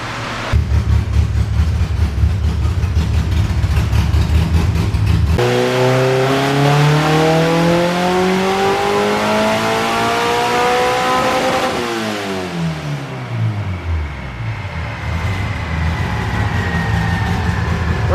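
A Honda CRX engine on an all-wheel-drive dyno, running front-wheel drive only with the drive shaft removed, revs hard and loud, its pitch sweeping up through a long pull, then dropping and climbing again.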